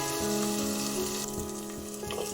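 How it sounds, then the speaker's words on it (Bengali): Ginger-garlic paste fries in a pan with a steady, close sizzle while it is occasionally stirred, a faint constant hum running underneath and no voices. "আদা রসুনটা ভালোভাবে ভেজে নিয়েছি"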